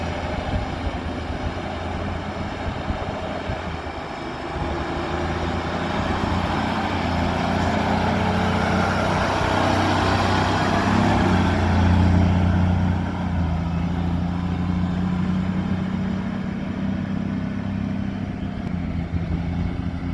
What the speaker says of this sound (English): Looks like we got a dump truck going somewhere.